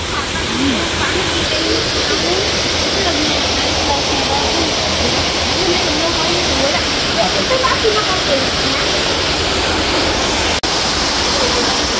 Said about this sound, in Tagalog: Ito na po yung Tanawan Falls.